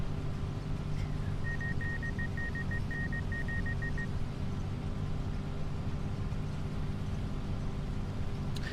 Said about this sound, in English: I got the beeping now. Yeah. It's fucking irritating.